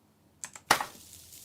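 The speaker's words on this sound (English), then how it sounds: "Press C on the keyboard." A single key press on a computer keyboard during a game gives two light clicks followed by a sharper, louder clack, close and otherwise quiet.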